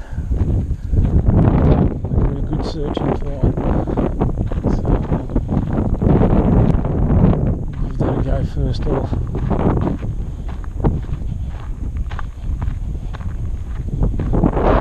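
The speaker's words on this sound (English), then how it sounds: "It's a windy day." Steady, gusty wind buffets the microphone with a low rumble throughout at a reservoir, while people talk over it.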